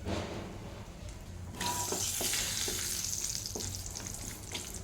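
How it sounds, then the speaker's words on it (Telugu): Two dried red chillies, mustard seeds, cumin and turmeric hit hot oil for a spinach chutney tempering, a sudden close, loud sizzle bursting in partway through and crackling steadily to the end, with no talking. "ఆయిల్ వేస్తున్నాను పోపు పెట్టుకోవడానికి అనేసి రెండు ఎండుమిరపకాయలు వేస్తున్నాను"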